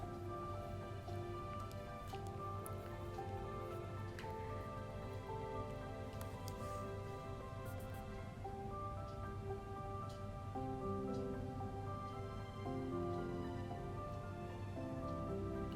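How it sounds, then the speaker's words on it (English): Bay leaf and peppercorns sizzle in hot mustard oil in a pan, a soft, continuous crackle with scattered pops that carries on quietly and evenly for the whole stretch. "In goes the bay leaf and peppercorns. Let them saute for around 10 seconds."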